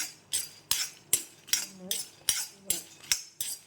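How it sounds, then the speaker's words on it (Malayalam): Peanuts roasting in a pan for peanut candy are stirred with a metal spoon, giving a steady rhythm of sharp scrapes and clinks about every 0.4 seconds, close and fairly loud with no voices. "ഇളക്കി കൊടുക്കുക"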